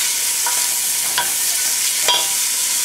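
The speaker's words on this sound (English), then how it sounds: "I'm just going to go ahead and pop my onion and my garlic in here and get that sautéing briefly." Onion and garlic sauté in a pot for tomato soup, a loud, dense hiss of sizzling oil filling the whole span, broken by a few faint scrapes of a spoon.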